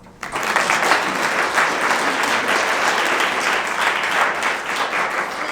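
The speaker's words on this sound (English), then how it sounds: "So another round of applause." Sustained applause from an audience at a school board meeting honoring chorus and band students, a dense, even wash of clapping that starts abruptly and holds steady throughout.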